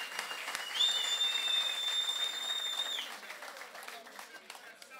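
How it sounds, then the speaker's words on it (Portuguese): An audience breaks into sustained applause with a long, piercing whistle riding over the clapping, which then gradually fades. "Quero apenas que vocês aplaudam e assobiem e gritem e mostrem respeito."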